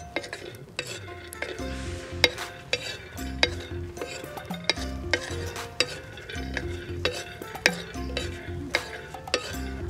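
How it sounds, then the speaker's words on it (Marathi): Peanuts and garlic dry-roasting together in a pan for mirchi thecha, with frequent rattling clinks and scrapes from a spatula stirring them over a faint sizzle. "आता शेंगदाणे आणि लसूण एकत्र भाजून घेते।"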